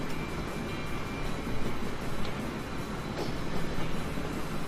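A steady, heavy rumble of a lumber-carrying freight train in the video game Train Fever, rolling along continuously, a dense mechanical roar with no pauses and no voices.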